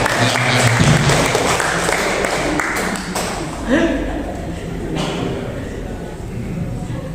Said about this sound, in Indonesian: Kita kasih aplaus untuk Ibu Rosida.